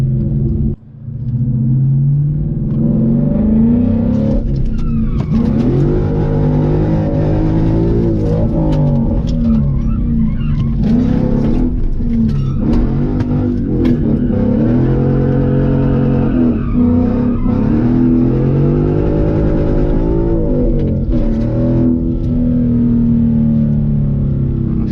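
A Ford Mustang GT drifting on a rain-soaked road, its engine roaring loud and close while the tires skid and squeal and the rear wheels hop violently, with a continuous rumbling drive and no speech.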